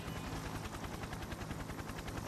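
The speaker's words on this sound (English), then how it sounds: "Simultaneously, the faint sound of a helicopter becomes evident." Faint helicopter in the video game Persona 4 Ultimax: a steady, rapid rotor chop with low thumping pulses, continuous and distant at low level.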